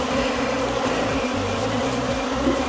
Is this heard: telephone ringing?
no